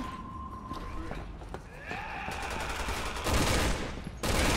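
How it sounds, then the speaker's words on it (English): Rapid bursts of gunfire in the Resident Evil 6 co-op campaign, growing louder and denser toward the end amid layered game noise, with a voice briefly audible underneath. "What the hell are you shooting at"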